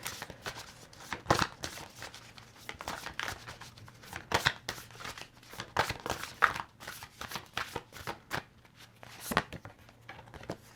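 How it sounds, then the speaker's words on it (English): A deck of cards being shuffled and handled during a pick-a-card reading, heard as soft, irregular riffling and slapping bursts close by. No one speaks. "Oh, I'm going to draw one more because I was shuffling."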